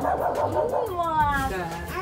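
A small dog yips and barks in short bursts indoors during a family visit, close and fairly loud, with excited voices talking over and around it.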